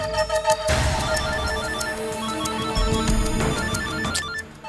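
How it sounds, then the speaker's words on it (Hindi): A telephone rings loudly with a repeating electronic ringtone melody, steady and close, with no voices. "इतनी देर क्यों लगा दी फोन उठाने में?"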